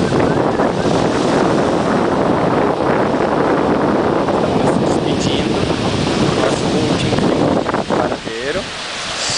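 Sea waves and strong wind at Varadero beach, a steady loud roar of surf with heavy wind buffeting the microphone throughout, near and continuous.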